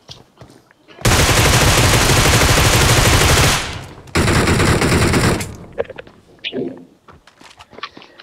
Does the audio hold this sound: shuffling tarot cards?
no